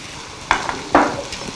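Chickpeas frying with potatoes in a pan under a constant sizzle, broken by two sharper scraping bursts as the mixture is stirred up close.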